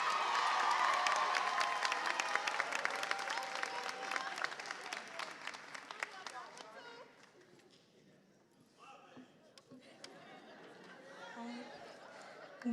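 A crowd at a 2024 architecture and design school commencement claps and cheers loudly for the class valedictorian, dense applause that thins out and fades after several seconds before a voice begins speaking.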